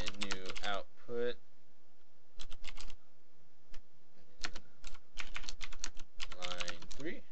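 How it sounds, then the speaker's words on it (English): Typing on a computer keyboard while writing simple output code, heard in short bursts of quick clicking keystrokes with pauses between runs, near and fairly clear. "So let's type in new output."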